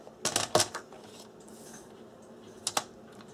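Paper is trimmed for a scrapbook journal in a few brief crisp clicking cuts, a quick cluster near the start and another pair near the end, with quiet pauses between.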